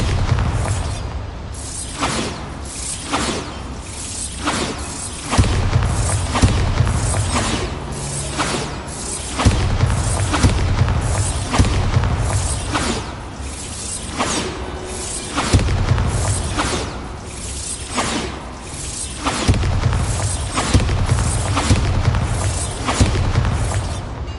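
Repeated Bombarda blasting-spell explosions in Hogwarts Legacy, a string of loud booms and bursts recurring every few seconds over dense, continuous game sound.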